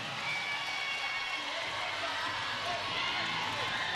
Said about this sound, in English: The crowd goes nuts every time she scores